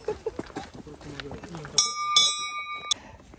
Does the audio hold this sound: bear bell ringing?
yes